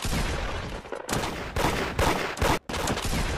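Rapid gunfire bursts from the Roblox game Da Hood crackle loudly and almost without pause, dense volleys with only brief gaps, heard alone with no talk.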